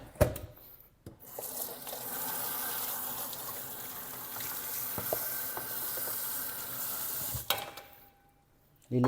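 Tap water runs steadily from a faucet while fish is washed underneath, a close hissing stream with splashes, starting and stopping with clunks at either end.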